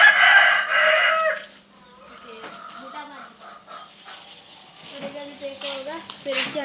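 Chickens cluck and a rooster crows outdoors on a farm, with a dog barking and people talking alongside the scattered fowl calls.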